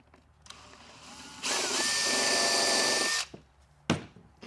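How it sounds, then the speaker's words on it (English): A power drill runs steadily for about two seconds, pre-drilling a screw hole for undermount drawer slides, with a short whine at the start and a clunk after it stops. "And we'll pre-drill this hole."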